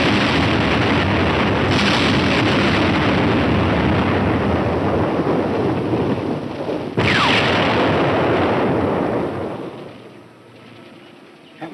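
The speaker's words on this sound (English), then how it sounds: "From the sound of the explosions, they missed." Continuous heavy rumbling bomb explosions in a 1945 WWII film roar and crackle for several seconds, loud and close, then fade into a low distant rumble.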